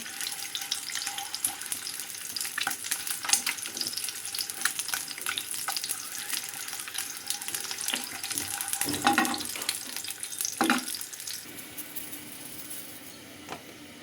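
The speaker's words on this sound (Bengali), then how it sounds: "আমি হালকা ডিমটা ভাজিয়ে নিচ্ছি" Egg frying lightly in oil in a pan, a steady hissing sizzle with occasional soft spatters and clinks, fairly close and continuous without talk.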